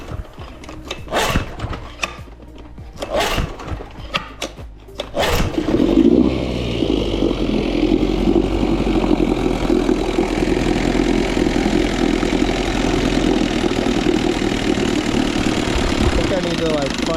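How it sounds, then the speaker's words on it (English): Evinrude Angler outboard motor, freshly carb-cleaned, started with a few clattering pulls and then settling into a loud, steady, rough idle close by. "I gave this Evinrude Angler a second carb clean, and I think we got it running pretty decent right now, so let me fire it up for you."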